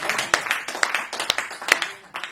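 An audience in a studio claps to welcome the poet Farooq Saral, a short burst of scattered, uneven hand claps with a lively, fairly close sound and no talk over it.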